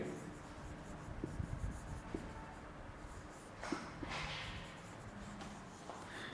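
Pen or pencil scratching out notes by hand on paper during a classroom lecture, soft close scribbles with small taps and rubbing strokes, quiet and steady with no talking.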